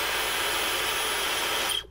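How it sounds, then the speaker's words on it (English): A hairdryer plugged into the 120-volt outlet in the back of a Tesla Cybertruck blows with a steady loud airy whoosh and then cuts off abruptly near the end. "I've plugged the hairdryer into the 120-volt outlet in the back here"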